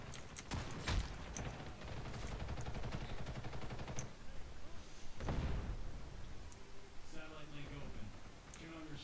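Gunfire in the online shooter Ghost in the Shell: First Assault: scattered sharp shots and short bursts, some loud and near, with someone talking over the action.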